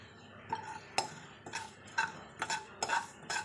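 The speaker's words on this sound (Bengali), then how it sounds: "এবার হালকা নেড়ে দেব।" Roasted chillies with nigella and poppy seeds stirred in a pan over a low gas flame, giving a series of light scraping clinks at an irregular rhythm, close and fairly quiet.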